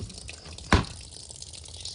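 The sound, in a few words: water filling up a container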